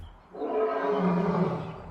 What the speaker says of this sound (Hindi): एक असली मर्द शेर की आवाज रियल लाइफ में ऐसी होती है।